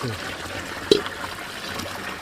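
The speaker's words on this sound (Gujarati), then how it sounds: "અત્યારે મોટર ચાલુ કરી છે મસ્ત મજાનું પાણી" Water pumped by a motor pours into a small cistern, a continuous splashing trickle with one sharp knock partway through, while a voice speaks faintly in the background.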